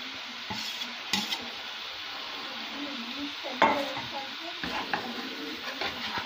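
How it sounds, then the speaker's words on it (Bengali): Fried cauliflower and potato pieces are tipped into cooked masala in a pan and stirred. A soft, steady sizzle runs under scraping and a few sharp knocks of the spoon, with no talking. "দেখুন এখন আমি ভাজা ফুলকপি আর আলুটা দিয়ে দিব"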